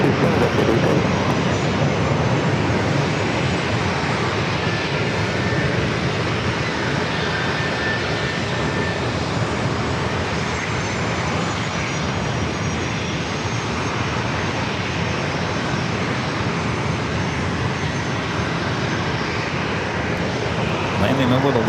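An airplane lands at San Diego airport, its engine roar loud, broad and continuous throughout, with a steady rushing wash and no pauses.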